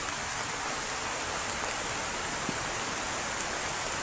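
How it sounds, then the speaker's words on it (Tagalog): Very heavy rain keeps up a thick, unbroken roar of hiss from start to finish, with no voices over it. "Yan, napakalakas na ng ulan."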